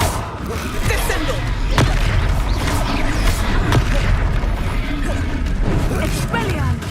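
A Descendo spell cast during combat in Hogwarts Legacy, heard as a sharp crack and heavy slam amid rumbling, clattering battle effects, with a shouted voice and other voices over the din.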